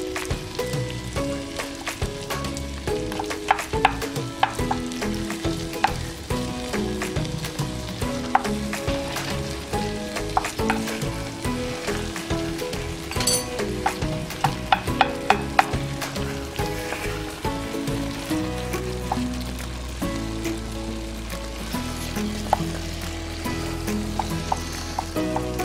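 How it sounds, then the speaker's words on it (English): Ground beef browning over medium to medium-high heat in a pan for Chilean empanada filling, a steady close sizzle and crackle running throughout with occasional stirring scrapes and no talking. "until we get about medium or medium high to get that ground beef nicely cooked and browned"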